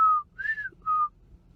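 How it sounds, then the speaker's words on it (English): A person whistles three clear, sustained tones with short gaps between them, the middle note sliding up and down, heard alone in a quiet room. "Yes, I can whistle."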